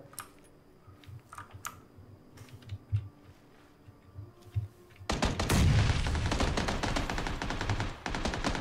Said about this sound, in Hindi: मेरे पे चल रही गोली